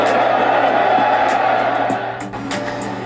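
A cricket crowd cheers after a boundary save, a dense roar of voices and whoops that holds loud, then drops and eases off near the end.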